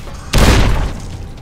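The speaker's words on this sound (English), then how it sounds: "And he's going to explode." A single loud, close boom from an explosion in Fallout: New Vegas, with a sharp onset and a heavy low rumble that slowly fades out.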